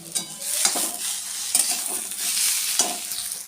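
Taro leaves cook with a hilsa fish head in a pan, frying with a continuous sizzle. Repeated scraping stirs of a utensil mark the rhythm, close up and with no talking.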